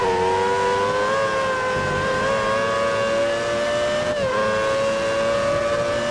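Sustained, high-pitched F1 race car engine from the F1 2013 video game, a loud, steady whine holding near-constant revs with a brief dip around the four-second mark, alone with no talk.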